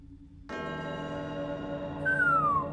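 A single resonant bell strikes and rings out with a sustained, shimmering tone, joined near the end by a high sliding whistle-like note.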